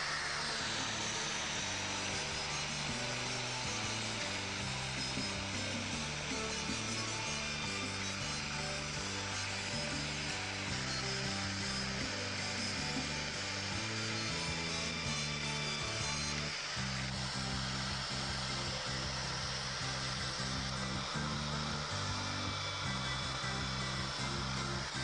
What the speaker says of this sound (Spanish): Ahora vamos a hacer también otros cuatro agujeros en la parte superior, dos a un lado, dos al otro, con una broca de 3 milímetros